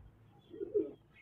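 A white Babra pigeon gives a single soft, low coo, close and fairly quiet, rising briefly in the middle of the moment with no other voices.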